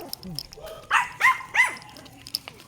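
A small dog barks three times in quick succession during an outdoor walk, fairly close, with people talking around it.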